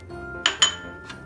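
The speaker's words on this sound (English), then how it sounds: "Now I'm putting dry fruits and choco chips." Dry fruits and chocolate chips go into cupcake batter, with two bright, close clinks of a utensil against a bowl, then a fainter third tap.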